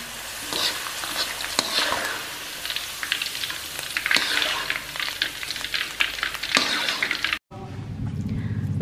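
Close, steady frying sizzle from food cooking until half crisp in a pan at a home breakfast, with intermittent scraping and clatter of a utensil, cutting off abruptly near the end.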